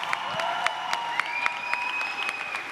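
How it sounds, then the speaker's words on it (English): Steady applause from a crowd, a dense patter of clapping that continues throughout at moderate loudness. "Let's give yourself another round of applause."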